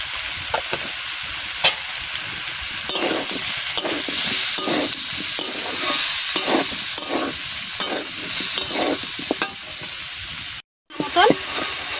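Jackfruit stir-fried in a pan with salt and turmeric gives a steady, close sizzle broken by repeated scraping stirs, with no talk and a brief cut of silence near the end.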